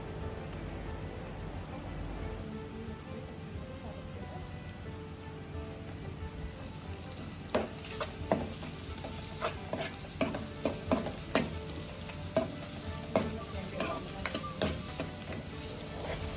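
Garlic, ginger and green chilli paste with salt is stirred in a pan for a Kerala-style beef curry: a steady low sizzle runs throughout, with sharp spoon scrapes and clicks growing frequent in the second half, no talking.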